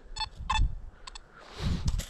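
Nokta Makro Simplex metal detector beeping during a park hunt, with short electronic tones in quick pairs and groups, close and clear, over scuffing ground noise.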